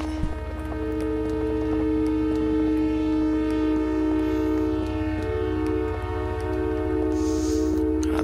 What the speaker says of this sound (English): this is like fucking Silent Hill sirens going off